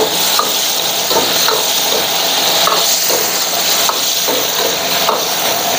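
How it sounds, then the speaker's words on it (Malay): Chilli padi sautéing in a pan for a spicy lime-leaf chicken heart, liver and gizzard dish, a steady loud sizzle broken by a few short stirring scrapes, with no talking. "tumis dulu"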